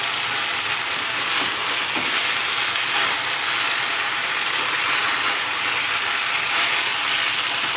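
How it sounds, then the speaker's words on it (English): Sticky sweet chilli shredded chicken stirred in a hot pan, a continuous soft sizzle with faint scraping and stirring noises, fairly quiet and steady throughout. "Just stir it again."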